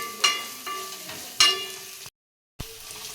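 Ground cinnamon, clove and cardamom fry lightly in a little oil, giving soft sizzling bursts with a few stirring clinks, cut by a short silence.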